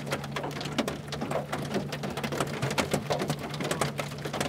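Large hailstones pelt down during a tornado chase, a dense, irregular clatter of sharp impacts over a steady low rumble, loud and continuous.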